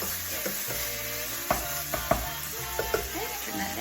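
A pot of red chili simmers with a low bubbling hiss while a spoon stirs it, producing several distinct knocks and scrapes against the pot, close and moderately loud.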